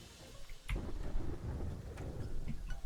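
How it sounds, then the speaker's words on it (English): A thunderstorm in the game Terraria rumbles with low thunder over steady rain and wind, a sudden loud crack followed by a continuous rolling drone with no voices. "Thunderstorm sounds like."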